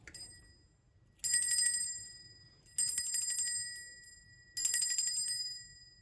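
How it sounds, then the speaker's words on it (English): A small high-pitched bell rings three times in evenly spaced strikes, each chime bright and shimmering before fading out, with quiet pauses between. "this can be as simple as a small ringing bell."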